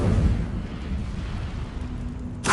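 Incendio fire spell cast in Hogwarts Legacy, a loud rumbling fiery burst that sustains for a couple of seconds before a sharp crackling flare at the end.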